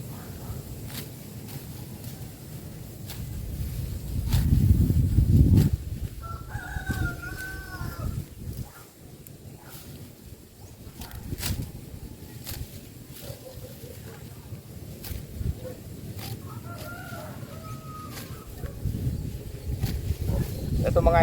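Backyard pet chickens cluck and a rooster crows twice at moderate distance while someone gathers feed and clears grass nearby, with rustling and handling noise and a voice talking over much of it.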